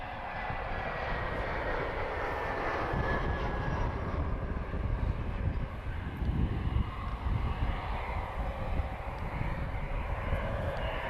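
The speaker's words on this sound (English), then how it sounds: "inbound guys, uniform 24425, another flight from EasyJet Europe. A very lovely A319" An EasyJet Airbus A319 arriving at Lisbon Airport, a steady, fairly loud jet roar that holds throughout with a faint high engine whine on top.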